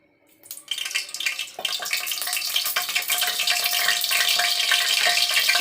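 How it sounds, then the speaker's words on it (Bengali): Mustard oil sizzles in a hot wok (kadai) for khichuri, starting almost silent before a sharp hiss jumps in and builds into a steady, close, loud crackling fry with no talking. "এবার এর মধ্যে একটু সর্ষের তেল দেবো।"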